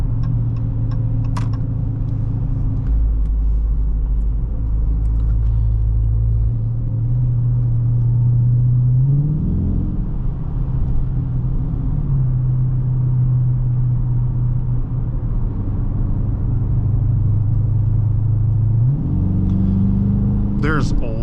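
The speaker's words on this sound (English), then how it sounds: "You don't even need to press the gas much. The car gets up to speed easily." A 2021 Dodge Charger R/T engine drones steadily under load while accelerating on a road, its low hum rising in pitch twice as the revs climb, heard from inside the cabin.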